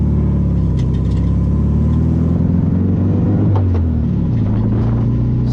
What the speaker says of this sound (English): So we're just driving down to the field so we can test the rest of the gears